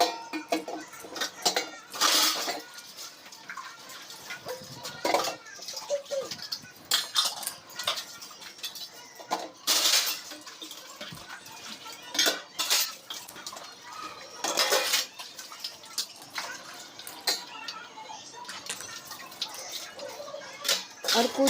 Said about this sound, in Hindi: चलिए बस फटाफट बर्तन धो लेते हैं।